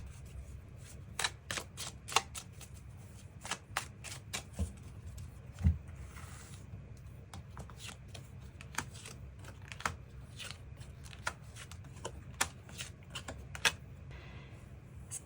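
Tarot cards shuffled and drawn by hand, a run of crisp, close card snaps and flicks in an irregular rhythm over a quiet low hum, with no talking.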